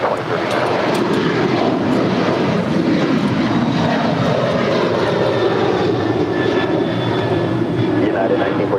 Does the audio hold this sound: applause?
no